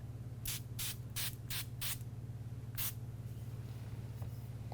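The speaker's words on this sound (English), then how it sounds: "I'm going to spray with a little water." Six short hissing bursts from a spray bottle, five in quick succession then one more after a pause, over a steady low hum.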